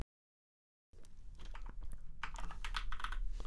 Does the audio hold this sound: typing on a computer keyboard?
yes